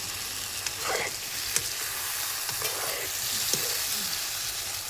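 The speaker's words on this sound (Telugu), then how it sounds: "ఆయిల్ అది చిట్టపట్లాడిపోతుంది" Mango pieces fry in hot oil for a pickle, giving a steady close sizzle with scattered crackles and small pops throughout, and no voices.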